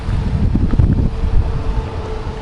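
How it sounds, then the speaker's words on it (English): Wind buffets a microphone outdoors on a street on a windy April day, a loud, steady low rumble with gusty swells and no talking. "as you can tell, it's quite windy here"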